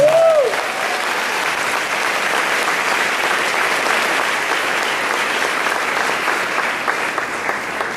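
A church congregation claps steadily and continuously, a dense wash of applause that stays even throughout, with a brief tonal sound at the very start.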